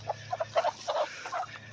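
A flock of agitated chickens in a coop gives a rapid burst of clucks and squawks, close and moderately loud, with no talk.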